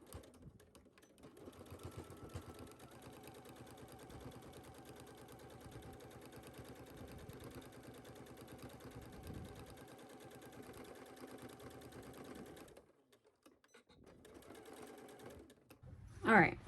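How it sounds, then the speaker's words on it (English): A sewing machine runs steadily for about twelve seconds, understitching the seam allowance on a pair of pants, with a voice talking over it before the motor stops and a brief sharp sound near the end. "you are going to understitch"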